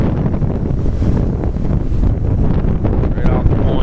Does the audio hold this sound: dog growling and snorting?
no